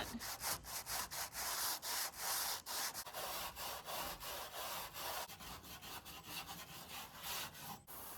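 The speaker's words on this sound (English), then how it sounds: "I'm just going to sand this roof vent" A metal caravan roof vent on a vintage caravan being sanded by hand, steady close scraping strokes repeating in an even rhythm throughout with no talk.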